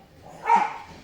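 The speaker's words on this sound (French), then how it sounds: "c'est les chiens du voisin" A neighbour's dog gives a single short bark, moderately loud and a little distant, with no talking over it.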